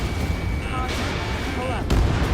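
Missiles firing and blasting in the jet combat video game Ace Combat 7, a dense, loud roar of rumbling explosions with a sharp burst near the end, with radio voices and warning tones layered over it.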